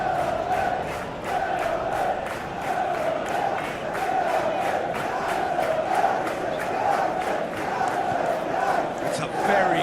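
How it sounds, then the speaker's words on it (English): Stadium crowd noise from a football video game, a steady loud roar with rising chants and whistles throughout, continuous and dense across the whole stretch. "Well, the crowd aren't happy."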